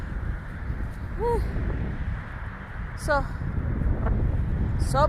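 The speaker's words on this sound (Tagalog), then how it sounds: "Sobrang lakas ng hangin, narinig nyo." Strong wind buffets the microphone outdoors in a loud, continuous low rumble, with a few brief chirpy bird calls on top and the speaker's voice talking over it at moments.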